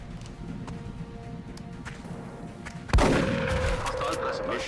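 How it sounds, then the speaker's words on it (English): A shotgun fired in the tactical strategy game XCOM Long War: a single loud, sharp blast cuts through quiet ambient background and leaves a lingering ringing tail. "Let's bring Nathan over here and see what he can do with his shotgun"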